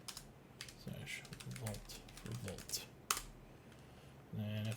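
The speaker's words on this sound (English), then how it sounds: "And then if I type Vault," Quiet keystrokes tap out a short command on a computer keyboard, a quick irregular run of clicks with a brief pause and a sharper key press near the middle, while faint speech murmurs underneath.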